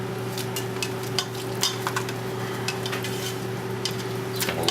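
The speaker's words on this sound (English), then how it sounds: "Mix all that ketchup and horseradish and all that into this." Kielbasa cooking in a pan with ketchup and horseradish is stirred, giving a steady sizzle with scattered scraping and clinking from the utensil against the pan.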